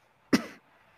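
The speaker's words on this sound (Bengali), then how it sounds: "আমি সম্ভবত তার কাশি শুনতে পেয়েছি বা কণ্ঠ গলা শোনা গেছে" A caller joining a live stream gives a single short cough, close and fairly faint, over an otherwise quiet line.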